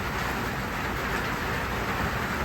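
Steady, dense rain drums on a poor village house's roof, not a concrete slab, a continuous hiss with no voices.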